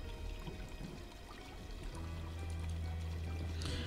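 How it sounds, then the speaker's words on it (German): Water steadily pours and splashes as it overflows a brimming bathtub in the video game Black Mirror 2, a continuous close trickling rush with a low hum underneath, no speech. "Die Wanne ist randvoll. Das Wasser läuft über."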